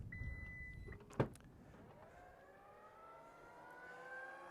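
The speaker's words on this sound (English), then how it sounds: "when I get the boot open" Power tailgate on a Subaru Solterra electric SUV opening: a steady motor whine, then a sharp clunk as the latch releases, followed by a quieter rising hum as the boot lid lifts. No talking.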